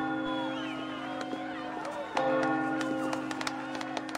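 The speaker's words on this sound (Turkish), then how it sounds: "Alkış." Crowd cheering and applauding at a royal ceremony in Assassin's Creed Valhalla, a mid-level scattered clapping swell that rises sharply halfway through, with voices mixed in.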